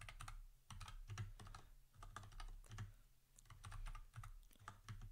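Someone types code for a Wayland display client on a computer keyboard, close and clear, in quick rhythmic bursts of clattering keystrokes separated by short pauses, with no talking.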